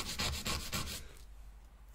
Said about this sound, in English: So let's just sand this down.